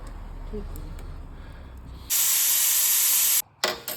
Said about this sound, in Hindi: कुकर में गाजरों को लगा दिए सीटी